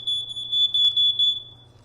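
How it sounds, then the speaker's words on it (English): Smoke detector sounding after a fresh battery is put in, loud shrill electronic beeps pulsing in a rapid series of four, close and alone. "that smoke detector would have gone off"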